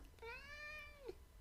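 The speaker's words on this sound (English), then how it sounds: "And that's my cat." A single domestic cat meows once, a clear drawn-out call lasting about a second that ends on a short rising chirp, close to the microphone with no voices.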